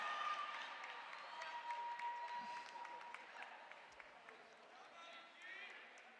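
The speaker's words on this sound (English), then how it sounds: "A big round of applause." Applause for athletes at an indoor rowing national championship, faint and somewhat distant crowd clapping that runs steadily through a large venue with some background tones.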